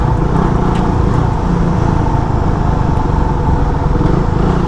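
Heavy road traffic in Bacoor, Cavite, heard from a 2018 carbureted Raider 150 motorcycle on the move: a loud, constant roar of engines and wind with steady rumbling and no pauses.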